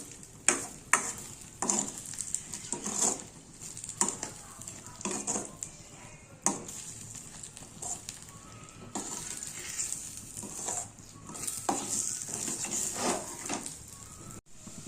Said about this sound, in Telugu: ఇప్పుడు దీనిలో ఎగ్స్ వేసుకున్నాను. నెక్స్ట్ దీన్ని ఇలా బాగా కుక్ చేసుకోవాలి.